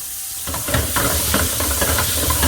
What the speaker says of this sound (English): we roll them around in that just to saute them, just to get a nice colour on them and a nice flavour